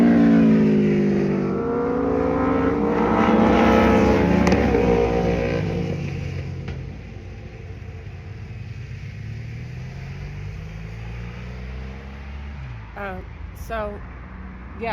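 Several motorcycles and a couple of cars pass on a road, engines swelling loud and near early on, then fading to a steadier distant rumble, with a voice talking over part of it.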